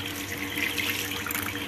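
Water runs steadily from a tap while seeds are washed, a soft continuous splashing stream with no break.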